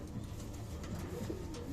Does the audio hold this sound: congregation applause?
no